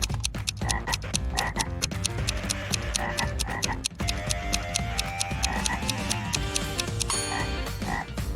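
A frog croaking sound effect plays as a dense, continuous chorus of rhythmic croaks and clicks, loud and close, with no voices.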